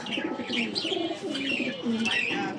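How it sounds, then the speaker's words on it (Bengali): Pigeons cooing close by, a few soft rolling coos repeating in short bursts with light chirps in between. "চলেন এদিকে এক জোড়া গুল্লা কবুতর দেখি"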